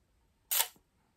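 A camera shutter fires once at a slow shutter speed, giving a single crisp click with a short trailing tail in an otherwise quiet room.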